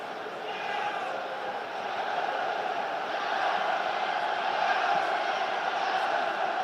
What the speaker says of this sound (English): Crowd are really up for this one.